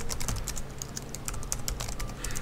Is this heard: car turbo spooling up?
no